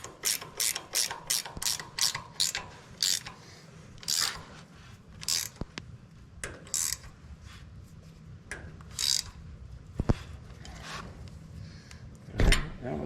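Ratchet wrench tightening bolts on a brush hog mower, a series of quick repeated clicking bursts up close, then sparser clicks and metallic knocks with pauses between strokes, no talking.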